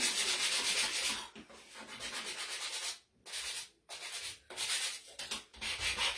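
An acrylic-painted wooden gingerbread man ornament being sanded by hand, heard as close, hissing back-and-forth rubbing strokes. The strokes come in bursts, with a few short silent breaks between passes.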